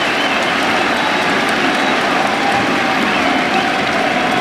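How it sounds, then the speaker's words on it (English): Steady, even applause from a cricket crowd at an England v India Test match on the final day, a continuous dense patter of clapping spread across the ground without a break. "Largely ironic applause."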